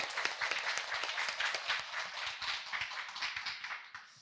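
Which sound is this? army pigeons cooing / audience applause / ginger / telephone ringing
audience applause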